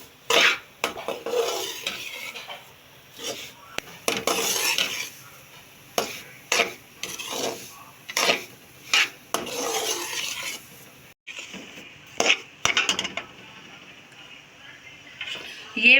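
Semolina roasts in oil in a pan while a spoon stirs it, giving repeated scraping strokes against the metal over a faint sizzle, close by, with someone talking over parts of it.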